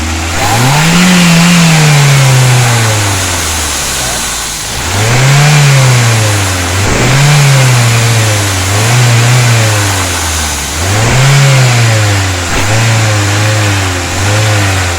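Toyota Avanza or Daihatsu Xenia engine during a tune-up, revved repeatedly: loud, close throttle blips that rise and fall in a regular cycle over a constant idle hum.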